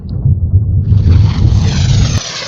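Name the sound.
jet aircraft flying low overhead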